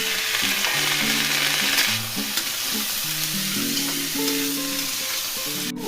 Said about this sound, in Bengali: এবার নেড়ে নিচ্ছি ক্যাপসিকামগুলো দিয়ে।